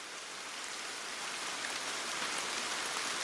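Steady rain falls in a soft, even hiss, unbroken and moderately close, in an animated fairy tale about a flower waiting underground for the sun.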